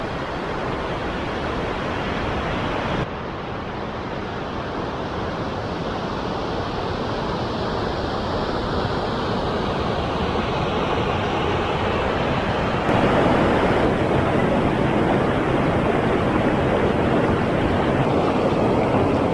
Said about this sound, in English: I guess that must be the waterfall.